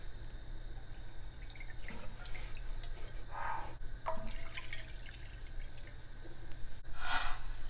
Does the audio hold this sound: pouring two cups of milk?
yes